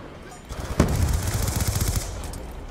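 Rapid automatic gunfire in Call of Duty Black Ops II multiplayer, starting with a sharp shot and rattling on in a dense, loud burst for over a second before tailing off.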